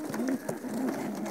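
Pigeons from a breeder's loft of young hens give soft, low cooing calls in short repeated phrases, fairly close and moderately loud over a faint background hiss.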